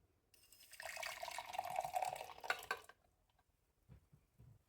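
Water pours steadily into an MRE ration pouch for about two seconds and then stops, followed by a few faint soft handling sounds.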